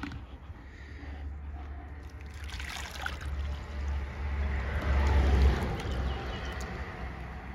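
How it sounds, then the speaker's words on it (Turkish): Water pours into a 10-litre plastic drum over chicken manure, a gurgling, splashing flow that swells midway and then settles, close and fairly loud. "Onun üzerine suyla tamamlayacağım."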